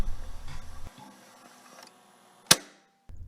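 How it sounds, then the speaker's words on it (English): A tape recorder runs out of tape: quiet mechanical whirring and faint ticking fade, then one sharp loud click as the mechanism stops, followed by near silence and a soft resumed hum. "that sound you just heard was the sound of my tape recorder running out of tape"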